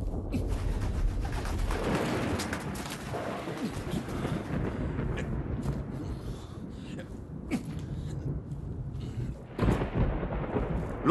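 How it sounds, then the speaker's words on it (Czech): Thunder from an approaching storm rolls as a continuous, loud, broad rumble with swelling booms, including a fresh burst near the end; no voices are heard over it. "blíží se bouře"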